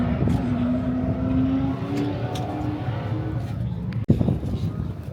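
A BMW E36 drift car with an LS V8 engine is driven, its loud engine drone rising and falling over a steady rumble, with a brief dropout and then a sharp revving burst near the end.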